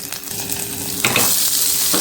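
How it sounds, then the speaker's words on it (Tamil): Chopped onions sautéing in a pan for a ragi flour tiffan, a steady close sizzle with a louder burst of stirring scrapes about halfway through. "நான் ஒரு டேஸ்ட்டுக்கு வெங்காயத்தையும் ஆட் பண்ணி இப்போ நான் வதக்கிக்கிறேன்"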